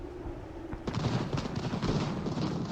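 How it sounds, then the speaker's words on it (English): Artillery fire in Ultimate General: Revolution, a battle game, comes as a dense series of rumbling booms and cracking volleys at a moderate distance, rolling on without pause and with no talking. "Oh, there's artillery on that side."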